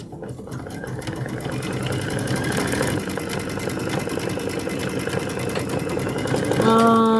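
A sewing machine works on a quilted wall hanging with a rapid, continuous mechanical chatter that builds toward the end, and a voice may be faintly present.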